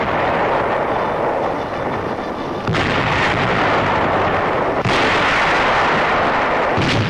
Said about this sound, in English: Landings are made under a naval barrage.